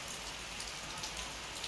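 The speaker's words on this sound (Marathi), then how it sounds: "आज आहे सकाळपासून पाऊस चालू झालेला आहे।" Steady rain falling since morning onto a house's veranda and courtyard, a dense continuous patter and hiss heard alone at a constant moderate level with no speech.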